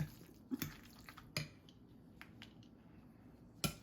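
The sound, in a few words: stirring guacamole with a fork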